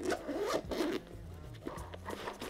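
Zipper pulled open on a Peak Design 5L sling bag, a close rasping zip lasting about a second, followed by soft rustling of the bag's contents.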